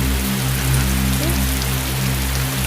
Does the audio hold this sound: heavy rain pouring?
yes